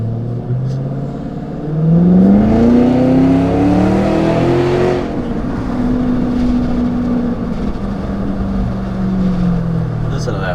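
A 2025 Cadillac Escalade V engine revs up loudly, and its pitch climbs and falls with crackling exhaust pops. The engine then settles back to a lower, steady drone.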